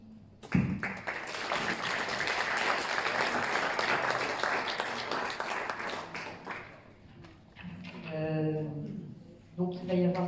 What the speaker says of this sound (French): je vous applaudis, bravo